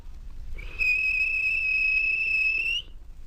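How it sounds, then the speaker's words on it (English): A train guard's single shrill whistle blast, steady and piercing, lasts about two seconds over faint background rumble. "The guard blew his whistle."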